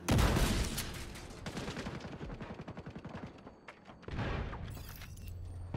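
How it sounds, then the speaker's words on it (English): Video game gunfire in The Division 2 aimed at a metal hatch: an opening blast, then a rapid, evenly spaced stream of shots at moderate loudness, a brief lull, and a final burst of fire. "Shoot the metal hatch."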